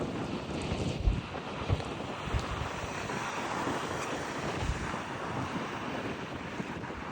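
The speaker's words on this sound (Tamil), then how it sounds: "குளிர் காற்று வீசினது இருக்குது" Steady blustery cold wind roars into the microphone with low buffeting gusts, continuous and fairly loud, with no voices.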